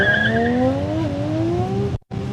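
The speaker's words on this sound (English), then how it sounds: "The old school Toyota Supra." Old-school Toyota Supra with a JZ engine drag racing on an airstrip, its engine note rising loudly through a gear before a brief cut and then picking up again.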